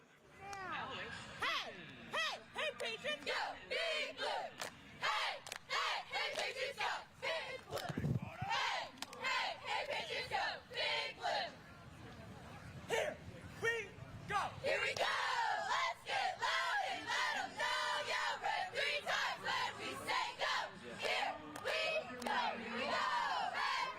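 High school cheer squads at a Friday night football rivalry game chant and yell in rhythmic unison with the crowd, with loud, repeated shouted bursts and cheering throughout.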